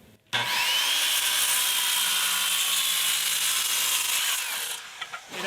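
A circular saw cuts through wood after a sharp start, holding a loud, steady buzzing whine for about four and a half seconds, then winding down with a few faint knocks at the end.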